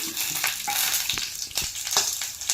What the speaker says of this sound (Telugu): పచ్చిమిర్చి ఇది కాసేపు వేపాలండి